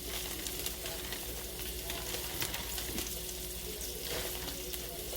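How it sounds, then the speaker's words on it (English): A steady, close hiss of frying and sizzling comes from a pan as flour is stirred into gravy for Swiss steak, with faint scraping from the stirring and no talking. "We're gonna stir it around."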